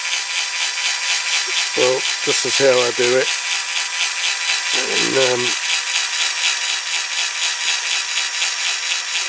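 A small drill grinds continuously into the metal rivet posts of a Dinky Toys Cunningham C-5R die-cast model, a steady close high whine running throughout while someone talks in two short bursts over it.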